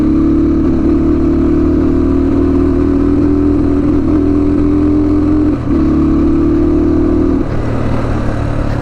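A motorcycle engine drones steadily while riding, a loud close hum holding one pitch, dipping briefly and then settling lower near the end, with no talking.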